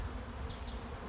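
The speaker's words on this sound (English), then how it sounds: "we're now just going to start brushing some of these bees so that we can actually see the comb to cut it." Honey bees buzzing around an opened beehive early in the season, a steady, dense low drone held close and continuous throughout with no talk.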